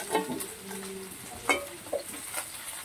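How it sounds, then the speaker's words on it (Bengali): Potato, pumpkin, onion and garlic fry together in a pan, giving a soft, quiet sizzle broken by a few scraping stirs. "এগুলোকে ভালো করে ভাজতে হবে।"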